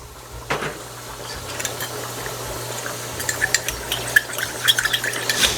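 Water is stirred into a pot of pork and beans, soft sloshing with scattered light clinks of a utensil against metal, close by over a low hum.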